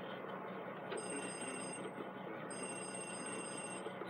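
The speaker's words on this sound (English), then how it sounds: "Here comes that phone call." A telephone ringing in the video game Luigi's Mansion, two electronic ring bursts about a second and a half apart, each lasting about a second, over a steady, quiet background hum.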